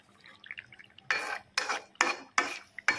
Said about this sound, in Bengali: এখন একটু সুন্দর করে এটাকে ঢেকে রাখবো।